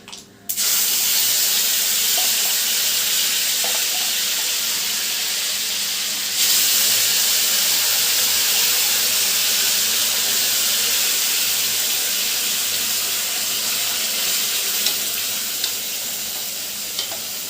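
Ground masala paste for a palak (spinach) masala hits a hot pan and erupts into loud, steady sizzling and hissing close by, with a brief surge partway through and faint clinks, no talking.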